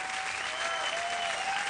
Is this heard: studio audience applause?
yes